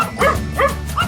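Dogs on a sailing boat cruising around the world give three short, close barks at an even pace, loud and alone with no talk.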